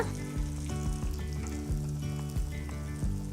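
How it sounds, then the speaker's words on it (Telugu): Kara appam fry in hot oil with a steady, close sizzle, joined by a recurring background tone and occasional light knocks, with no talking. "రెండో వైపుకి కూడా తిప్పి గోల్డెన్ బ్రౌన్ రంగులోకి మారేంత వరకు వేయించాలి"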